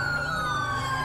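A police siren wails in the GTA5 video game during a car chase, a loud, continuous high-pitched tone held steady close by with no talking.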